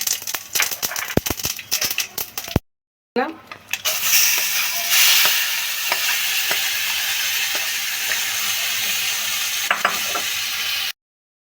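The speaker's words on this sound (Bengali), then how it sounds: "তেলটা হয়ে গেছে এবারে সর্ষেটা ফোড়ন দিয়ে দিলাম আর দুটো লঙ্কা" Mustard seeds and two chillies sizzle in hot oil for an olive chutney, crackling steadily after a short burst of clicking and a brief gap, with a few sharp pops and someone talking over it at times.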